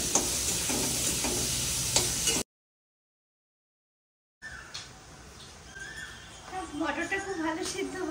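Food is stirred in a pan during home cooking, with sizzling and scraping close by. A brief silent gap falls partway through, and a voice speaks over the cooking sounds.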